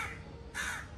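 A single harsh crow caw rings out clearly over a quiet background, close and fairly loud.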